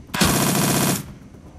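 A single loud burst of rapid machine gun fire in the video game Shadowrun: Dragonfall, a tight string of shots lasting under a second before cutting off into a short fading tail.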